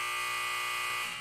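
A sustained electronic buzzer on a sports show sounds loud and steady for just over a second, with a harsh, rasping tone and no voices.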